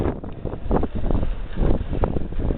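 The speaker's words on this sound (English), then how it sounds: "A little bit windy up here" Strong mountain wind buffets the microphone high on a snowy pass, a steady roaring rush with gusty surges throughout, loud and close, with no voices.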